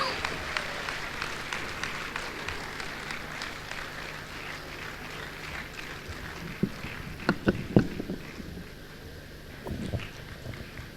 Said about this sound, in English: Please can we hear another round of applause for the special guests of honor one more time?